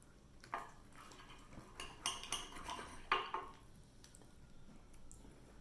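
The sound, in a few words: fork and knife cutting pizza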